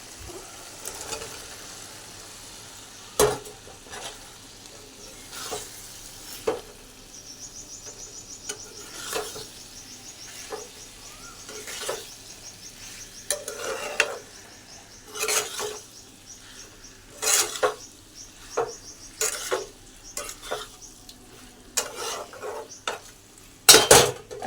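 Potato and soya chunks drop into spice paste frying in oil, producing a low sizzle under irregular clanks and scrapes of a spoon against the pot, growing busier and louder toward the end.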